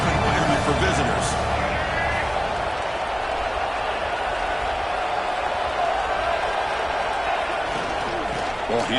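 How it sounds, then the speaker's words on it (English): A stadium crowd roars in a college football video game, Ole Miss against Michigan, a loud, continuous wash of cheering and hubbub under a commentator's talk. "Listen to the crowd energy here in the early going"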